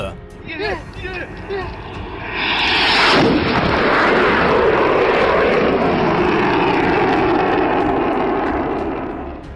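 A jet aircraft roars in low overhead at an air show, building over a couple of seconds into a loud, sustained rushing blast that fills the rest of the clip, with voices faint beneath it.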